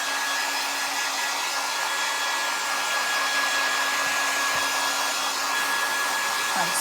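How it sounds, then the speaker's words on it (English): Hair dryer blowing wet cardboard craft pieces dry, a loud steady whooshing blast with a constant whine, held close and uninterrupted throughout. "let me go ahead and just blast these dry a little bit"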